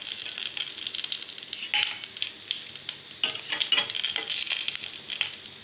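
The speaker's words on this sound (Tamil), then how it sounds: "அதே எண்ணெயிலேயே வந்து நம்ம கடுகு போட்டுக்கலாம்" Mustard seeds, fenugreek and dried red chillies sizzle and crackle in hot oil, a bright, close, continuous fry with scattered pops and a few stirring scrapes of a spoon against the pan.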